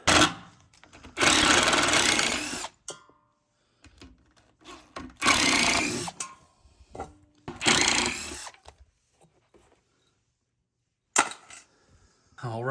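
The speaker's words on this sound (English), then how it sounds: "So I'm gonna go ahead and get this disassembled." Repeated bursts of a power drill or screwdriver backing screws out of a shelf unit during disassembly, several loud whirring runs of a few seconds each separated by quieter clatter and handling of parts.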